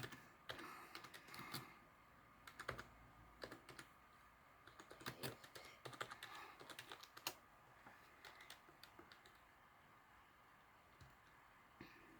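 Fast, irregular clicking of computer keyboard keys in bursts, faint and close, with no talking.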